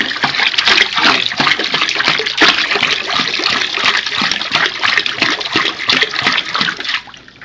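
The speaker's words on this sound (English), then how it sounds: "That's splashing around a little bit too much for me" Water pours steadily into a batch of homebrew wine of roughly 2.5 gallons, splashing and churning loudly and close by for about seven seconds before tapering off at the end.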